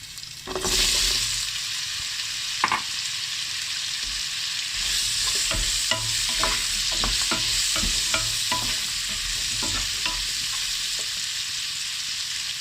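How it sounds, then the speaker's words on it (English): Onions tossed into a hot pan for a South Indian paneer butter masala, hissing sizzle after they land, then a steady fry with repeated scraping stirs throughout, no speech. "I'm going to throw in the onions."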